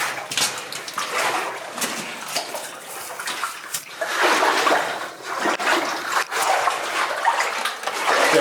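Water pours and splashes into a flooded shaft in a video game, a continuous rushing gush with uneven surges and trickles, fairly close and fairly loud, with no voices over it.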